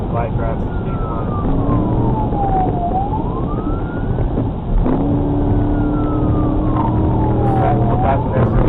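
Police car siren wailing up and down in long sweeps during a high-speed pursuit, loud and close over steady engine and road roar, with a radio voice faintly underneath.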